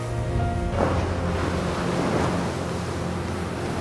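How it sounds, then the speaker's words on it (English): Rough, roaring wash of ocean waves cresting in a storm surge, a steady dense rush that swells suddenly and then keeps churning loudly, with no voices. "These cresting waves, which used to be referred to as tidal waves, have been filmed by amateur filmmakers and storm hunters."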